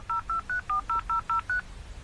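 Eight quick touch-tone dialing beeps from a dial-up modem dialing over a phone line, evenly spaced and crisp over a quiet background hiss, with no talking.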